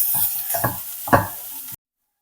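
Greens are sautéed with coconut, salt and turmeric in a pan: a soft sizzle under a few scraping stirs, close and moderate in volume, cutting off abruptly into silence.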